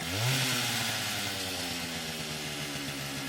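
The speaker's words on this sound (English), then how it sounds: "Look at that chainsaw." A chainsaw engine runs close and loud, starting with a brief rising rev and then holding a steady buzzing, rough drone with no talk.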